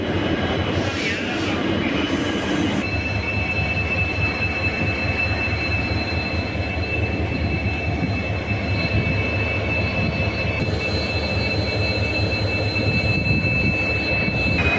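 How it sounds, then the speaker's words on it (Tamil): A Vasco Express passenger train hauled by a diesel engine rumbles steadily throughout, with wheel squeal, a thin high ringing tone and faint background voices. "ரொம்ப நாள் கழித்து ஒரு கம்ப்ளீட் டீசல் இன்ஜின் புல் பண்ணுற ரூட்டில் ட்ராவல் பண்ண போகிறோங்க."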